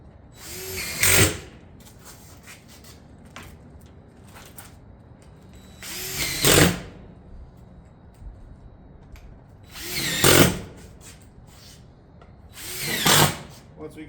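A power drill fastens a Granite Ridge shingle panel during a roof install, sounding in four short, loud whirring bursts spaced a few seconds apart with quieter gaps between.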